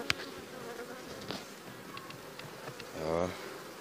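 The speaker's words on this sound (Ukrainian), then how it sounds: "другий вулик" Honey bees buzzing around an opened Carpathian beehive during honey harvest in August, a dense continuous drone with individual bees zipping close past, one passing loudly near the end.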